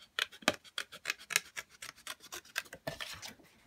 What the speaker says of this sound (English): show how easily the stamps cut out